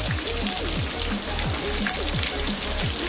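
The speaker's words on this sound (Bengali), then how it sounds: "আমটা 4-5 মিনিট ধরে খুব ভালো মতো করে ভেজে নিচ্ছি।" Mango pieces fry in hot oil for a sweet jaggery mango pickle, a dense, loud sizzling crackle that runs steadily throughout, with faint repeating sliding tones beneath.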